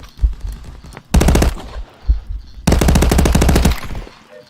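SMG fire in the VR shooter Contractors: two loud, rapid automatic bursts, the second longer, each preceded by short mechanical clicks and handling noises, with no talk.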